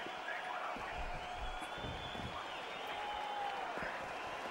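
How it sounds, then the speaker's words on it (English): Crowd at a wrestling event with kendo sticks chants and roars in a dense, sustained wash of many voices, steady throughout. "Hear the crowd starting to chant"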